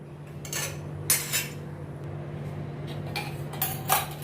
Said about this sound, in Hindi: गैस में मैंने पैन रख दिया।